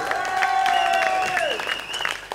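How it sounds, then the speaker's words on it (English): At a country music festival in Saint-Germain-lès-Arpajon, the crowd claps for the band's guitarist, a brief burst of clapping under a sustained sung or played tone that bends downward midway. "On peut l'applaudir."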